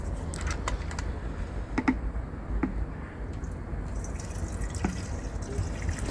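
Petrol and oil mixture pours into the fuel tank of a small draw-start boat engine, giving a steady low trickle with scattered drips and faint clicks throughout, fairly close and unbroken by talk.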